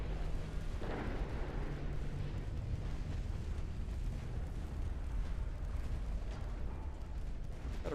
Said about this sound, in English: I'm loving to see all these freaking torpedo detonations, though.